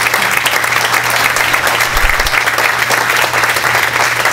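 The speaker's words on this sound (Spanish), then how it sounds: "un aplauso muy fuerte acá a Rodrigo" Loud, dense applause fills a room at a Startup Grind Lima event honoring Rodrigo Aramburu, steady and sustained from start to finish with no voices above it.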